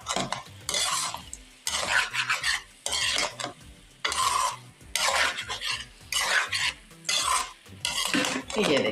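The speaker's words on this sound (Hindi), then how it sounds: "ये देखें इस तरीके से डाल के फिर से इसको एक दफ़ा मिक्स करेंगे।" Okra and minced meat being stirred in a pot, a spoon scraping in a steady rhythm of repeated strokes about once a second, with a light sizzle underneath, close and clear.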